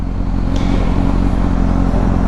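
A 2007 Honda CBR 1000RR motorcycle engine revs hard and loud at close range, giving a steady, dense mechanical roar with no pause.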